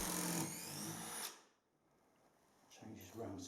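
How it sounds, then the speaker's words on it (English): A power drill drives screws into a wooden gate built from decking boards, with a steady whining motor burst that cuts off, a quieter pause, then the drill whirring up again nearby. "when you drill them into the wood"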